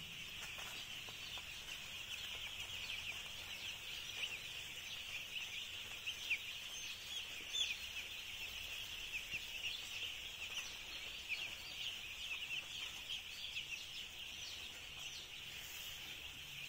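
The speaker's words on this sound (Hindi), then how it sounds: "यहाँ पे भी ये चिक्स फीड इंटेक कर रहे हैं" A large flock of two-day-old broiler chicks in a commercial poultry farm shed with automatic feeders keeps up a dense, continuous chorus of high peeping, fairly faint and steady throughout, with no one speaking.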